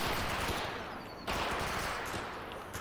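Rapid gunfire roars nonstop in a STALKER firefight at a pump station, a loud, dense, continuous clatter of shots filling the whole stretch without pauses or talk.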